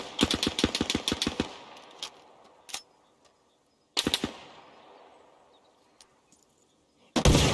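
Automatic gunfire in the military shooter game Arma Reforger: a rapid burst of about ten close, loud shots, then scattered single shots and a second burst with echoing tails, ending in another loud report.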